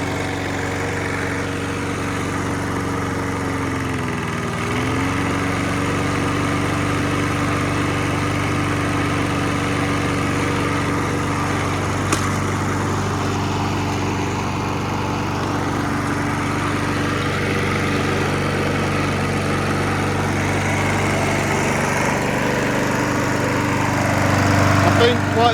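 A Mountfield Empress 16 lawn mower, being run for the first time after a long spell unused and smoking heavily, runs steadily and loudly up close, with a brief dip in pitch early on and a slight rise near the end.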